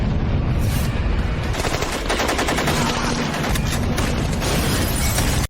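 Dense, loud gunfire fills a movie gunfight in a bar, with rapid overlapping shots and bursts like automatic weapons. It runs continuously without letup and then cuts off abruptly.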